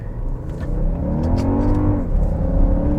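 A 2024 Toyota Grand Highlander Hybrid MAX accelerating hard, heard from the cabin as a loud rising engine and motor whine climbing in pitch with a shift, over road roar and without talk.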